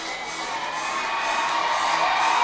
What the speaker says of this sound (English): Crowd's starting to get back into it.